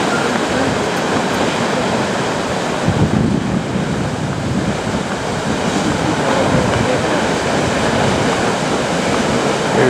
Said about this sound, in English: Here's the Middle Falls.